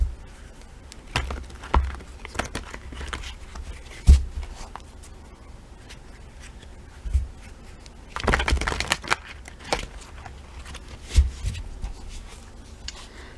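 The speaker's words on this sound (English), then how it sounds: "I'm shuffling off camera again." Tarot cards from a Healing Light Tarot deck being shuffled off to one side, soft riffles and taps in irregular bursts with sharper snaps, fairly quiet with no talking.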